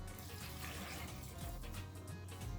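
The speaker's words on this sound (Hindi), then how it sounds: "1 कप में इसमें पानी डाल दूँगी" Water pours steadily into a cooking pot, a quiet continuous splashing trickle heard up close with no talking, for a few seconds.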